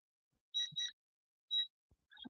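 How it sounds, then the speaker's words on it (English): An induction burner in a teaching kitchen beeps as a pot is lifted off: three crisp electronic beeps, two close together then one after a pause, with a faint clatter at the end in a quiet room. "So whenever we lift the pot off, it beeps at you. So we use induction burners here at the Teaching Kitchen"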